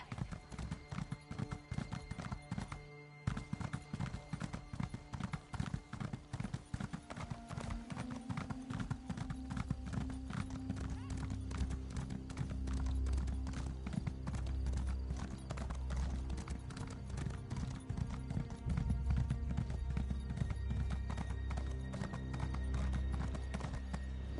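A horse ridden in Elder Scrolls Online, its hooves clip-clopping in a steady, continuous rhythm throughout, close and clear over quieter background game sounds.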